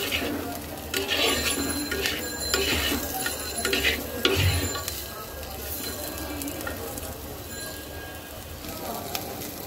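Spiced katla fish and cut potatoes sautéing in a pan with salt, a constant close sizzle mixed with scraping and clattering stirring strokes, busier at first and settling into a steadier fry.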